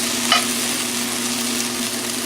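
Potato hash fries in a pan with a constant bright sizzle and a low steady hum underneath, plus one brief scrape near the start, close and fairly loud, with no voices.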